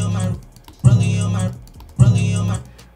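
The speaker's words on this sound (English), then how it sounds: "we're gonna click another key on our keyboard to switch to another performance scene" Computer keyboard keys pressed while switching scenes in video editing software, with three distinct taps roughly a second apart, fairly close and clear, each followed by a short ringing tail.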